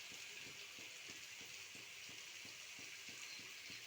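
Green chilli paste frying in hot oil for a fish curry: an even, continuous sizzle with a regular ticking scrape of a spoon repeating about twice a second.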